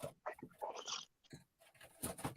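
A coonhound vocalizes in short, close bursts of whining and yelping, loud and irregular with brief gaps between outbursts.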